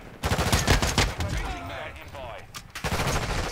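Gunfire from a slow-firing rifle in the Modern Warfare 2 beta, a burst of rapid loud shots, a pause, then more shots, with someone talking over it.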